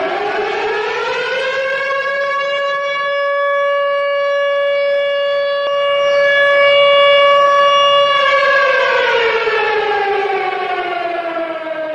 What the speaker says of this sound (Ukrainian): Про відбій повітряної тривоги буде сповіщати сирена і голосове повідомлення впродовж 2 хвилин.